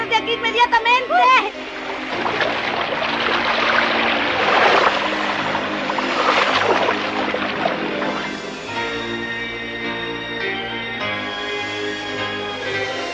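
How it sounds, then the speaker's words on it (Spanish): Rushing, splashing water chasing characters in an animated cartoon, a loud steady wash under excited, shouting cartoon voices, beginning with a sharp splashy burst. "El agua nos viene siguiendo."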